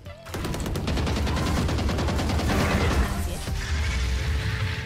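Rapid bursts of automatic gunfire in the Valorant shooter game, a dense, sustained rattle of shots with sharp metallic cracks, loud and continuous through the whole stretch.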